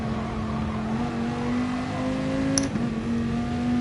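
A race car at Laguna Seca in GT Sport holds a high, steady engine whine that climbs slowly as it revs, with a brief dip and shift before settling back into a constant loud drone.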